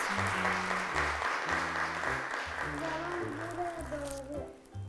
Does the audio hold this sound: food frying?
no